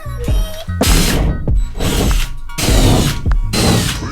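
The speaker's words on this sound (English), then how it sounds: "now I'm just going to go ahead and drill out in the corners" A power drill with a 1/2 inch bit cuts corner holes through a van's metal roof, loud whining bursts broken by short pauses and clicks as the bit bites and stops, close to the ear.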